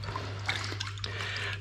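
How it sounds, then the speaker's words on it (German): Water splashes and trickles close by as a pressed sausage is lifted out and cooled briefly in cold water. A steady low hum runs underneath, and there is no talking. "Jetzt hole ich sie raus und kühle sie kurz im kalten Wasser ab."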